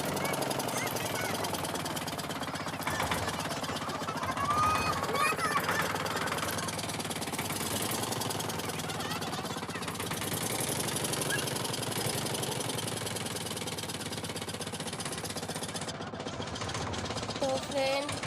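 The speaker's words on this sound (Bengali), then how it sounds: "ভুলা ভুলা নৌকা চালাচ্ছে" A motorboat engine drones steadily throughout a river ferry crossing toward Mayapur, a continuous rough mechanical rumble with faint voices mixed in.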